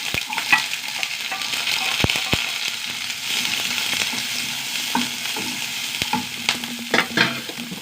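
Sliced onions sizzle in hot oil in a pan for a Kerala stir-fry, a steady crackling hiss with occasional sharp clinks of a spoon stirring against the metal.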